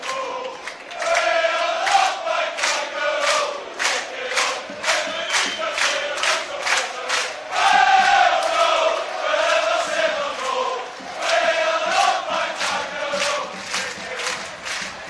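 A large crowd of St Mirren football fans celebrating the Scottish Championship title, chanting loudly in a rhythmic, repeated pulse, with massed voices swelling and surging throughout.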